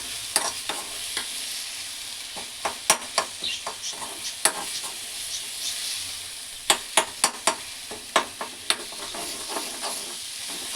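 Gongura leaves frying in a pan while being stirred, giving a steady sizzle broken by a run of sharp scraping and clacking strokes in uneven bursts, close and clear with no voices.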